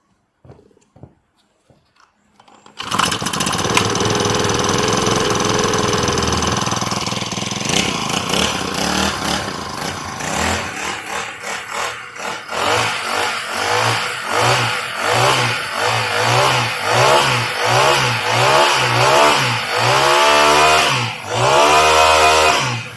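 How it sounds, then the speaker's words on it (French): A four-stroke brushcutter engine sputters to life and runs loudly, revving up and down repeatedly with a buzzy, pulsing drone, close up. "nous avons là un moteur de débroussailleuse 4 temps que je vais faire tourner quelques instants devant vous"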